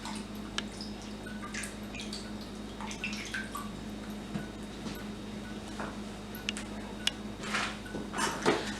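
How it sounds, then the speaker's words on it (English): Hands rinsed under a running tap after rubbing seasoning into ribs: faint, quiet splashes and drips over a steady low hum, with a few sharper splatters near the end. "Rinse off my hands."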